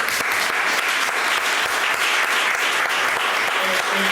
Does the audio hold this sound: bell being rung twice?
no